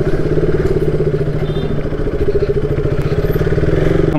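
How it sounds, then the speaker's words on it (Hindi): A motorcycle ridden through a busy, jammed street near Ghanta Ghar in Kashmir, its engine chugging steadily and loud up close with a rhythmic low throb throughout, no talk. "बहुत चला रहा हूँ एजाज भाई का बाइक"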